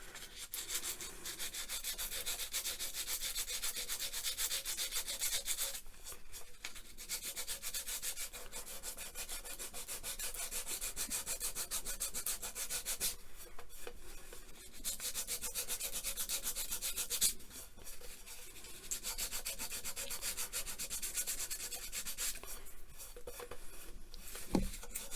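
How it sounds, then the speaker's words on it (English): Close, steady fine sandpaper rubbing on dried wood filler, a continuous gritty scratch in long strokes with a few brief pauses, no talking. "But I'm going to just take really fine sandpaper."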